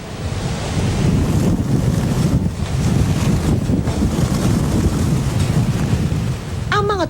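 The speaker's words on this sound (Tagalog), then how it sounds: "Parang sumisipol ang hangin sa tindi ng lakas." Super typhoon Lawin lashing Tuguegarao, Cagayan overnight: a loud, continuous roar of storm wind buffeting the microphone, surging and easing in gusts, with a brief sharp whistle near the end.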